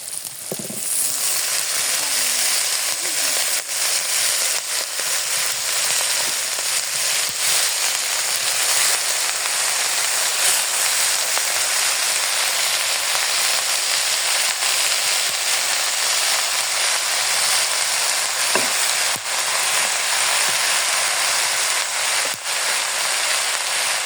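Leafy greens hit a hot pan of oil and onions and set off a loud, close, continuous sizzle that holds steady throughout, with a few faint clicks and no talking.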